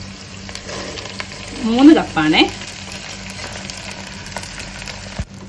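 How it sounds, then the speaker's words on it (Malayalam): Drained basmati rice fries with onion and capsicum in a pan, a steady low sizzle throughout, with someone briefly speaking over it partway through. "ഇതൊന്ന് ഈ ഉള്ളിൻ്റെയും കാപ്സിക്കത്തിൻ്റെയും കൂട്ടത്തിലിട്ട് നമുക്ക് വറുത്തെടുക്കാം"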